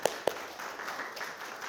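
A church congregation applauds to welcome a visiting pastor's wife, with two sharp claps up front followed by a softer, sustained patter of clapping through the room.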